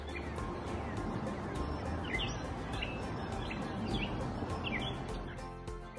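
A bird that mimics other birds' calls gives short, varied calls and chirps at intervals over a dense outdoor hiss, each phrase sounding different from the last, in a riverside park.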